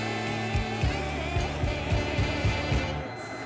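A small engine fitted to a motorized vending cart idles with a steady low hum and a regular pulsing beat, close by and fairly quiet, without talk.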